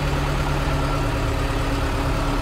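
A John Deere 5425 tractor fitted with a three-point forklift idles steadily nearby, a constant low diesel drone with a faint even throb and no voices.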